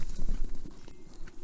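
A wave of horses gallops through snow, heavy overlapping hoofbeats thudding in a fast rolling rhythm, loud and close, with a deep rumble under the pounding.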